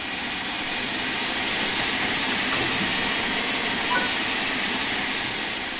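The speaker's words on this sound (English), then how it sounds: "Open the cylinder cocks to remove any water from the cylinders after the locomotive has been left standing." LMS Fowler Class 4F steam locomotive in Train Sim World 3 opening its cylinder cocks, a steady, loud hiss of venting steam that runs unbroken throughout with no voices.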